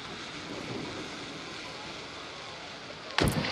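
Steady wind roar fills the background at a cliff diving event in Dublin, Ireland, then a brief sharp splash near the end as a diver rips cleanly into the water.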